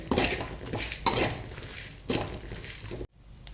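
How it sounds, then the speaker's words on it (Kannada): Poppy seeds being fried in a pan for vangibath, heard as bursts of scraping and clattering from a spoon stirring in the pan over a light frying hiss, ending abruptly near the close. "ಗಸಗಸೆ ಲಾಸ್ಟಿಗೆ ಹಾಕ್ಕೊಳ್ಳಿ ಅದನ್ನು ಹಾಕಿ ಸ್ವಲ್ಪ ಫ್ರೈ ಮಾಡ್ಕೊಳ್ಳಿ"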